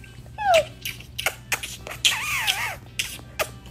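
A small dog whines in high, wavering whimpers, one short and one longer drawn-out cry, amid shuffling and light handling noises close by.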